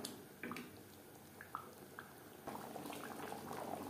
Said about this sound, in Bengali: 3-4 মিনিট আলুর সাথে মাংস বেশ ভালো করে ফুটিয়ে নেব।